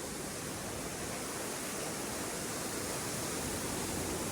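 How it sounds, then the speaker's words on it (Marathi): The second hidden waterfall at Amboli roars as a steady, loud, unbroken rush of falling water, close by and filling the whole scene with no other sounds. "hidden waterfall of Amboli this is the second waterfall"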